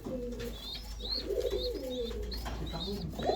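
Fancy pigeons, including pouter breeds, coo repeatedly in a loft, soft throaty rolling calls overlapping one another at close range over a low steady background hum.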